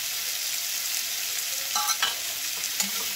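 Garlic and ginger paste frying in oil with potatoes and onions gives a steady, close sizzle, broken by a few brief stirring scrapes, with no voices.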